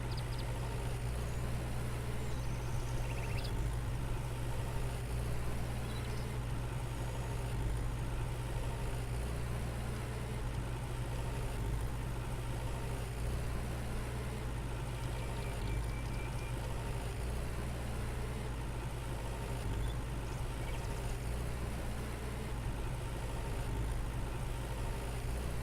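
Tractor engine idles in the Farmer's Dynasty farming game with a steady low rumble and hum, unchanging for about twenty-five seconds, moderately quiet with no talk.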